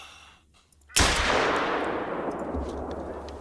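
A single pistol shot cracks out loud and sharp in theHunter: Call of the Wild while aiming at a resting kudu, its report decaying slowly into a long echoing tail across open terrain.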